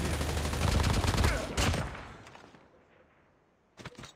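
Gunfire in a battle royale video game: a dense burst of rapid shots at full loudness for about a second and a half, then a fading echo tail, and a short second flurry at the end.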